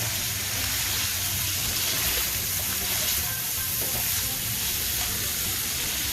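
Food sizzles and fries in a skillet, a dense steady hiss that carries on throughout at close range.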